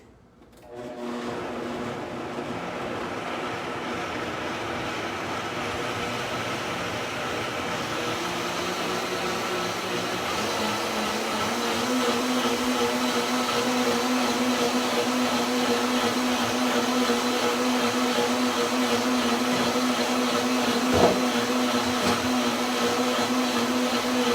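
A blender blends hot cooked greens, running steadily for the whole stretch, a loud continuous whir whose motor pitch shifts and settles partway through, with one brief knock near the end.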